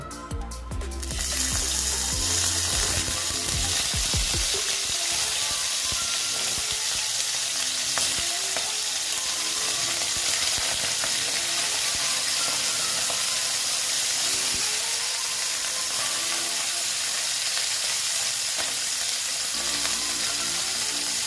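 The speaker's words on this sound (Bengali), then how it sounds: "আমি মাছগুলো ভাজবো" Small bata fish go into hot salted oil in a pan with a sudden burst of noise, then fry in a loud, continuous sizzle with a faint crackle. No one speaks.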